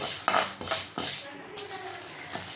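Dal dry-roasting in a pan over a medium flame for coconut thuvaiyal, with a few close metallic spoon scrapes and stirring clinks against the pan over a faint sizzle, no talk.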